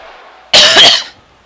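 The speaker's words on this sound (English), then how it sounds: "Sorry if I cough right there," A single harsh cough bursts out close up, loud and brief, over a faint background hum.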